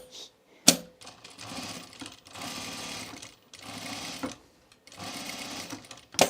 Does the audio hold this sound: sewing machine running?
yes